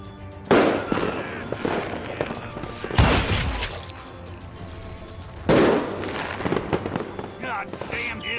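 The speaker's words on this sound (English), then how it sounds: "Shoot him! Shoot him!" Gunfire in the Western video game Call of Juarez: Gunslinger, with loud bursts of shots at several points among rapid cracks and echoes, while voices shout and talk over the action.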